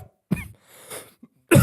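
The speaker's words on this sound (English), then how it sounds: "I was just coughing." A man coughs a few times, with short harsh bursts and a throaty rasp between them, close to the microphone.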